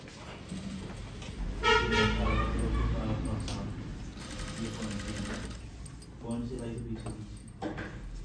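Sewing machine stitching kurti fabric, whirring in repeated runs of rapid mechanical chatter that start and stop, close and fairly loud, with someone talking over it at times.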